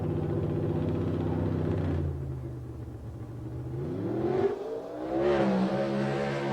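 A drag racing car's engine at the 1990 ANDRA Winternationals roars, dips and climbs again as it accelerates down the track, a loud rising mechanical whine heard from trackside.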